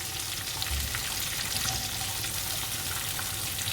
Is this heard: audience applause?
no